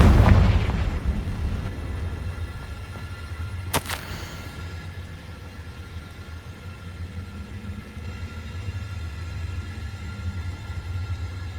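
A fire spell explosion in the Hogwarts Legacy video game, a loud booming burst at the start decaying into a long low rumble, with a sharp crack a few seconds later.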